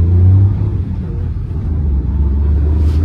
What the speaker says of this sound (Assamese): গাড়ী টেষ্ট ড্ৰাইভ চলি আছে